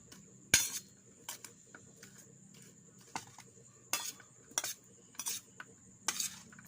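A spoon stirs chicken breast sisig mixed with mayonnaise: about half a dozen spaced metallic clinks and scrapes against the pan over a quiet background, with no talking.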